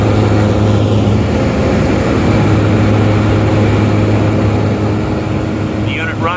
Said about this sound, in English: We have the top air motor running. You can see here the fans in operation.